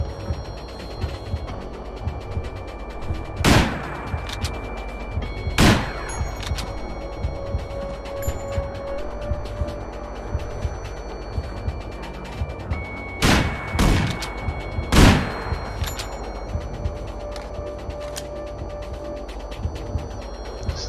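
Sniper rifle fire in the stealth game Manhunt: four sharp, loud shots spaced irregularly across the stretch, each with a ringing tail, over a bed of mechanical clicks and ambient game noise, with no talking.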